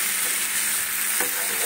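Food frying in a wok, a steady loud hiss of sizzling oil with a brief scrape of stirring partway through, close and continuous.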